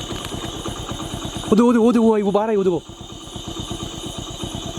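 A motorcycle idling nearby with a steady rapid putter throughout, while someone speaks loudly over the engine partway through.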